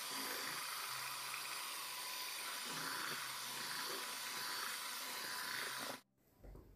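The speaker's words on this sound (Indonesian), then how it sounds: "kita kocok dengan menggunakan mixer kecepatan paling tinggi" Electric hand mixer running at top speed, beating agar-agar cake batter for a layered moss cake: a steady, loud whirring hiss that holds level, then cuts off abruptly near the end, where a brief spoken word follows.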